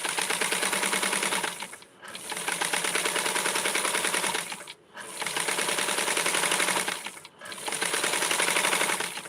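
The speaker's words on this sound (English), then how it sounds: "I will go ahead and do the sewing at the top" A sewing machine runs loose stitches along the top of a small candy corn dress for a Blythe or Skipper doll. It whirs fast and steadily in four long runs with brief stops between them, loud and close.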